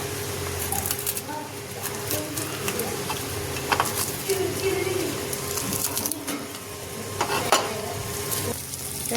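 Cabbage paste sizzles steadily in a pan with garlic and dried chilli, with a continuous close hiss of frying and occasional sharper spatters and stirring scrapes throughout.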